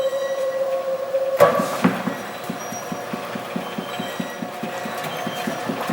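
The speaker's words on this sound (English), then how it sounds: "I close it and let the mixer do its work" A commercial dough mixer kneads flour tortilla dough with a steady rhythmic thumping and mechanical hum, following a brief clank as the lid closes.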